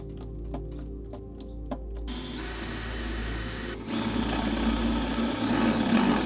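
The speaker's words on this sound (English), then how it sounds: "I use a bigger drill bit in order to get the screw head further into the" A power drill with a larger bit starts up after a few quiet ticks, whirring steadily and growing louder as it countersinks screw holes in wood.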